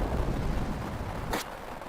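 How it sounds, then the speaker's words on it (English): A single sharp gunshot attack from Final Fantasy Tactics cracks out briefly near the end, cutting through a steady, dense background wash of game music. "Then the gunshot."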